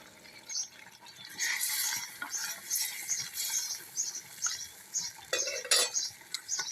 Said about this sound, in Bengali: ঢাকনাটা উঠে আবার নাড়াচাড়া করে দেবো।